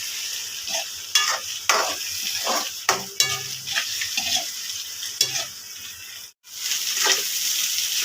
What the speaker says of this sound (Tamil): 3 முட்டையை உடச்சி ஊற்றிட்டு எல்லாத்தையும் ஒன்றா கலந்து நல்லா ஃப்ரை பண்ணுவோம்.